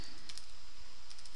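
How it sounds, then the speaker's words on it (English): Someone types on a computer keyboard, producing a quick run of soft clicks that are partly masked by steady broadband hiss. "So let's start typing."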